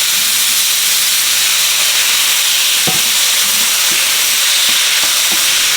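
Steak meat and garlic fry in a hot pan with a loud, steady sizzle and hiss, close up, broken by a few soft knocks and scrapes of stirring.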